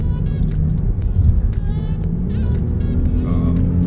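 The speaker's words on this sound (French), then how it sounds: "Voilà le turbo à charger là." A Mercedes E400 4Matic coupé's turbocharged engine drones steadily and loudly throughout, a continuous low rumble with a faint turbo whistling whine above it as it pulls.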